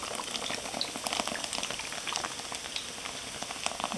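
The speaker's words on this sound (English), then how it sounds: "I'm just going to pour it into the batter." Beer from a 12-ounce can poured into pancake batter, a steady fizzing, crackling hiss of carbonation that runs continuously and close by.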